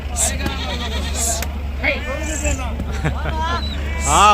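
Sheep and rams bleat at the Gudur sheep market in several wavering calls, some close and loud, over busy crowd chatter and a low steady hum.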